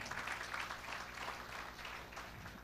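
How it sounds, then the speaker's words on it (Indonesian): Congregation at a Sunday church service applauding together, a dense steady wash of clapping that holds for the whole stretch without pause. "Berikan tepuk tangan."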